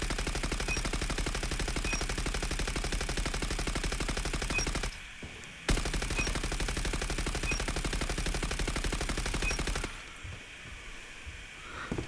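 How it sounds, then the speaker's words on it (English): Light machine gun firing in the mobile shooter game Peacekeeper, two long sustained bursts of rapid, evenly spaced shots with a short pause between them, then quieter handling noise at the end. "So definitely more of an aggressive LMG this one."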